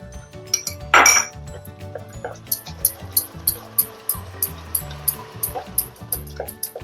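A spoon stirs cashew barfi mixture with ghee in a pan, steady rhythmic clinks and scrapes against the metal at close range, with one louder knock near the start.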